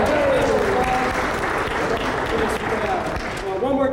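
Audience applause at a Community Shares benefit show, dense and steady throughout with a few voices calling out over the clapping.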